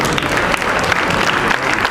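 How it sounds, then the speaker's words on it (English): An audience at a cultural stage show at a Lagos theatre festival applauds in a dense, loud, continuous wash of clapping. "this community deserves a round of applause"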